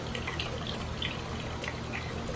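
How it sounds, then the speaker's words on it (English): Water drips and sloshes softly as a compacted hot-mix asphalt sample is set on the holder in a laboratory water bath. The sound is faint and continuous, with a few light splashes over a steady background hiss. "Place your compacted asphalt sample on the holder in your water bath"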